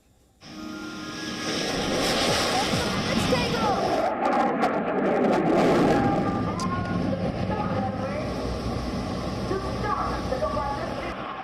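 Military aircraft roaring overhead at the Aero India air show at Yelahanka, Bengaluru, a loud sustained engine rumble and jet whine that swells and slowly fades over several seconds, with faint talk underneath.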